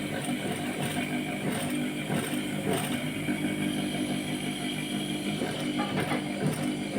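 A sewing machine stitches piping onto fabric, giving a steady, continuous mechanical whirr with faint rhythmic clatter that runs for the whole stretch at moderate, even loudness.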